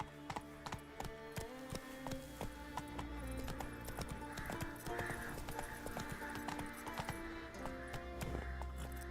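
Horse hooves clip-clopping at a steady rhythm in Witcher 3, close and prominent over an unbroken bed of game music, with a brief neigh and no speech.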